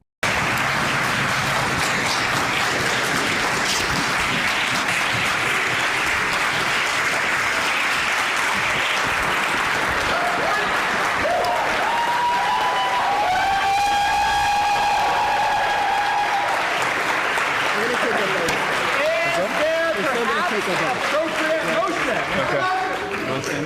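A Yale crowd cheers and applauds loudly and continuously, with whistles and shouted voices rising over the dense clapping partway through.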